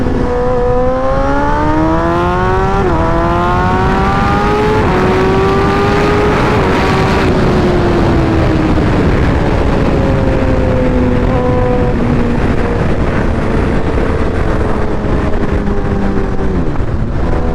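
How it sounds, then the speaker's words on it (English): A Suzuki motorcycle with clutch plate problems accelerates hard through its gears, the engine note repeatedly rising then dropping at each shift, loud and close under heavy wind buffeting, with no talking. "you can see I went through all my gears"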